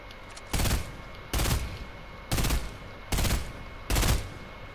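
Gunshots in a video game, five evenly spaced loud blasts, each with a short decaying tail, over a low background hum.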